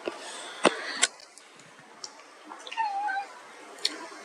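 A pet cat gives a short meow after a few soft clicks and taps in a quiet room, faint and close.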